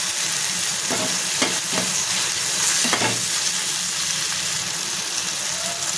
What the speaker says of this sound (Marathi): टोमॅटो टाकून घेतले, ते 2 मिनिटं फ्राय केलेत मी, आणि त्याच्यामध्ये लसूण टाकून घेते